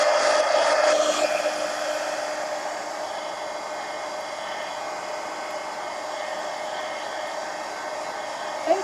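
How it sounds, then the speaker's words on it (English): Heat gun blowing hot air over a colored page in an adult coloring sketchbook, a steady loud whooshing hum that runs continuously throughout with no talk. "let me hit it with a heat gun real quick"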